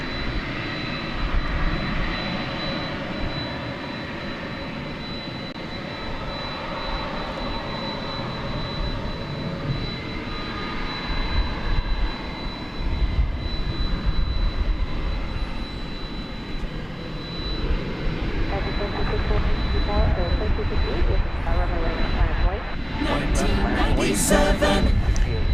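A UPS Boeing 767 jet, flight 773 bound for Louisville, rumbles steadily and loudly at DFW International Airport, its broadband engine roar holding throughout with a brighter, busier burst near the end.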